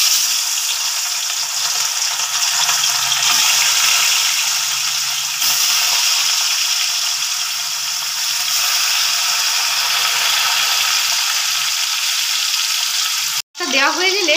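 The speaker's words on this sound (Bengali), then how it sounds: "মাছগুলো এবার আস্তে আস্তে তেলে দেব।" Pieces of rohu fish are eased into hot oil on a gas stove and fry with a loud, continuous sizzle, with faint stirring and a brief clatter near the end.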